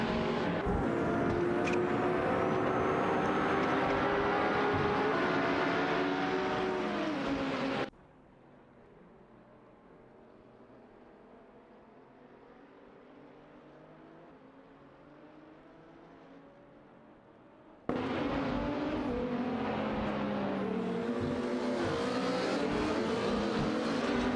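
Race cars in an AI racing video game roar with a loud, continuous high-pitched engine whine. The sound drops to a muffled, distant hum for about ten seconds, then returns at full volume.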